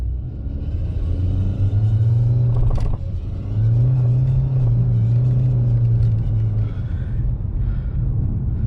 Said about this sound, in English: Does your Nissan Altima do this when you start accelerating?